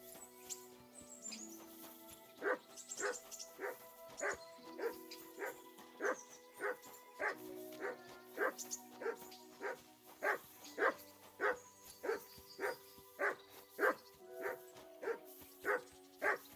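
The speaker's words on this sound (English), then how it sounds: "Call off that dog!" A dog barks in the medieval video game Kingdom Come: Deliverance II, giving a long run of evenly spaced, fairly loud barks over a soft ambient game background.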